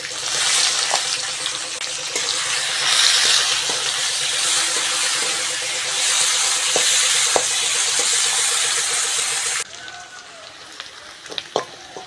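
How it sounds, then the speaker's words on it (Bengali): Chopped onions fry in oil for a Bengali prawn and pumpkin chorchori, with a loud, dense sizzle and stirring clatter that drops away near the end, followed by a few sharp clinks. "পেঁয়াজটা ভালো করে ভেজে নিয়েছি"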